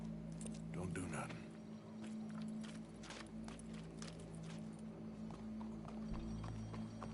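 Horse hooves clip-clop in Red Dead Redemption 2, a steady run of soft thuds over a low ambient hum with a possible faint whinny early on. People talk quietly underneath.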